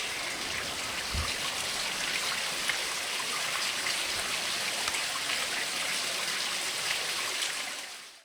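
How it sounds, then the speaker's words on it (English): A creek flowing beneath a natural rock bridge in Yellowstone, heard as a steady, close rush of water with bright trickling and splashing. It runs unbroken throughout with no talk. "watch the creek as it flows under the bridge"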